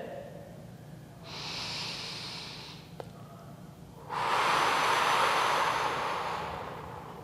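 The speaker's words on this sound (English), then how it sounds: "One more big deep breath in." Deep breathing during a Pilates class: a long, airy inhale through the nose is followed by a pause with a tiny click, then a stronger, rushing exhale that holds for a few seconds. The breaths are close and alone.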